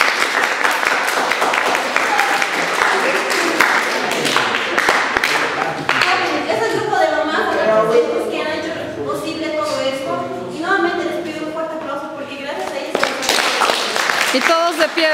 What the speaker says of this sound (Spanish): un aplauso fuerte, todos de pie